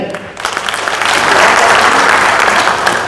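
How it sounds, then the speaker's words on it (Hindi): Loud audience applause at a Gurjar assembly in Saharanpur swells after a brief pause and holds as a dense, sustained wash of clapping from a large crowd. "जोरदार ताली।"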